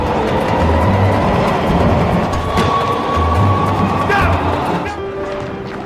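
A train pulls away with a steady rumble and rattling of cars that slowly eases in loudness, while a person talks over it throughout.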